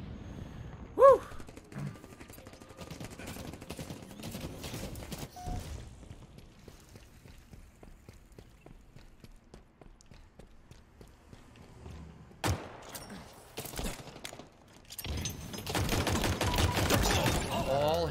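Gunfire in the video game Halo Infinite comes in scattered sharp bursts, with a loud shot near the start, sparse cracks through a quieter middle and a dense, sustained volley toward the end.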